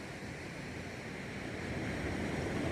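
Ocean waves wash in a continuous broad rush, with a soft wind-like hiss that swells slightly toward the end, and no voices.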